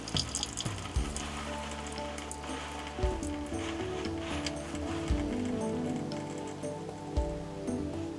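Water drains from the cold side of a faucet in a 2022 Winnebago Travato 59G RV after the water pump is switched off, a close, trickling splash broken by occasional knocks and thumps.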